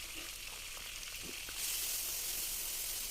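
Bruised galangal and ginger, lemongrass and bay leaves sizzle in leftover chicken-frying oil. A soft, steady hiss grows brighter and louder midway, with occasional faint stirring taps and no talking.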